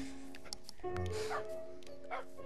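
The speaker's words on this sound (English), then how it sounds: "I found another dog, but I have no bones." A dog barks and yips in the Minecraft video game, a few short synthetic woofs over quiet in-game background sounds.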